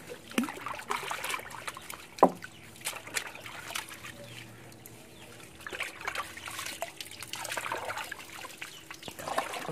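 A glass Martini bottle is rinsed with water, producing a quiet, continuous trickle and slosh with one sharp glassy clink partway through.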